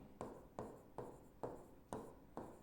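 Chalk or marker strokes on a board during a physics lecture, six rhythmic scraping bursts about half a second apart, close and moderately loud with no talking over them.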